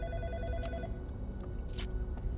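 Telephone rings in the horror video game In Sound Mind, a short bell-like burst standing out over a steady low ambient drone, with a second faint ring near the end; no one speaks.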